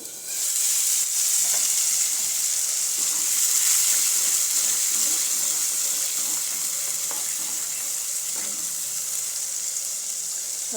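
Tomato puree poured into a hot spiced oil tempering for a potato curry, giving a loud, even hiss that holds steady throughout, with faint clinks beneath and no speech.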